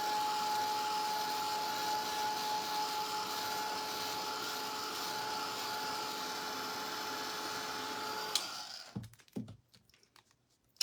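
A hair dryer runs steadily, blowing to dry acrylic paint coated on a mirror, a constant whirring drone that cuts off near the end, leaving a few soft clicks and handling noises.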